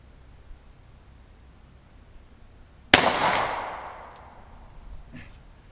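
A single loud, sharp gunshot from a .40 S&W Hi Point carbine fired through glass in a backyard, followed by a ringing clang and a decaying tail, with faint sounds afterward.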